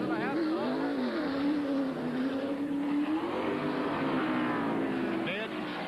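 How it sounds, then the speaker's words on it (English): A 1991 NASCAR Winston Cup car revs hard at the TranSouth 500. The engine note rises and falls in a sustained, loud whine under a commentator's voice. "You heard that engine go, wow, wow, wow."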